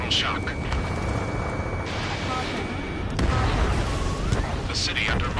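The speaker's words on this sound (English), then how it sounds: "Gunfire and the roar of jets echoing through the streets." Video game combat with dense gunfire and booming explosions in a city under attack, a continuous loud roar of blasts and rumble with sharper bursts throughout, and a voice speaking over the chaos.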